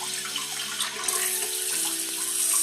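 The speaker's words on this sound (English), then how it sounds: "That's the regular wash on that nozzle for your booty." A Hibbent self-cleaning dual-nozzle bidet toilet seat sprays water on its regular wash setting, giving a steady close hissing stream that rises slightly in brightness partway through.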